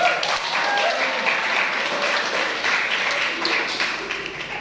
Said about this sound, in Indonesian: aplaus buat Dompu ya